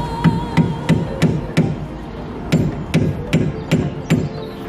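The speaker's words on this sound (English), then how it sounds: "We're going to have to hammer here so that we can get this off" Metal hammer blows striking a bent washer on a tie rod of a Lexus IS300, two quick groups of four or five sharp clanks each, close and loud against a steady workshop background.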